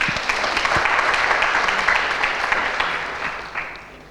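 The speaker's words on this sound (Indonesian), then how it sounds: "Yang mau masuk surga, berikan tepuk tangan bagi Tuhan." A church congregation claps for God during a worship service, a dense, steady wash of many hands sustained throughout and slowly fading near the end.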